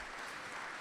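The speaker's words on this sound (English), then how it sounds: "You make people clap a lot." A short, faint stretch of audience applause, a dense wash of many hands clapping with no voices over it.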